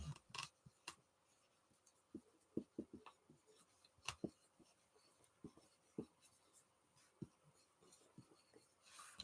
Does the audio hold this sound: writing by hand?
yes